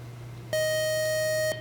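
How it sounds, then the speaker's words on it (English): A quiz show buzzer sounds once, a steady electronic tone lasting about a second, loud and close against a quiet room hum. "Buzzer got you."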